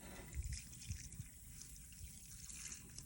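Fish emulsion liquid pours and trickles onto the roots of Swiss chard in a garden, a soft, low splashing dribble with a few gentle glugs, faint and close, without talk.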